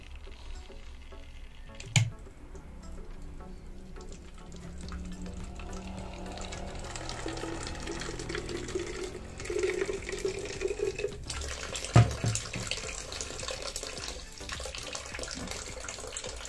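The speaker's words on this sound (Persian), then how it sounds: "میشنوی چه قلی داره میزنه؟ جوشا داره قشنگ تو قل میزنه." Water boils, bubbling and gurgling steadily at close range in a homemade water heater, with a couple of sharp clicks or knocks breaking through the churning.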